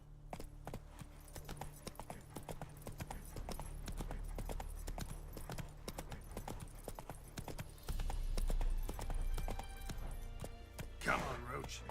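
Roach, a horse in The Witcher 3, gallops with steady rhythmic hoofbeats over a low game soundtrack, with a voice speaking over it.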